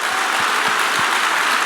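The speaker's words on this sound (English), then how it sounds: "Let's give one more round of applause." An audience claps at the HackMIT 2014 closing ceremony, a dense steady wash of applause filling the whole short moment, with a few low thumps underneath.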